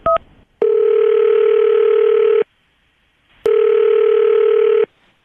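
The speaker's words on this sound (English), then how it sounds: "I'm going to dial her phone number right now" Telephone placing a call to a woman's number: a quick short beep, then two long, steady ringing tones separated by a second of silence, clear and close with no voices.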